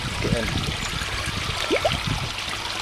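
Water runs steadily through a garden pond sump pipe, a continuous close trickling flow with a few faint bird chirps over the top.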